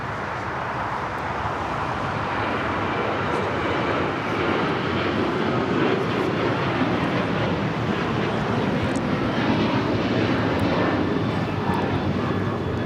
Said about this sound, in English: This is Alaska Airlines 1217 taking off to Seattle on the 737-900ER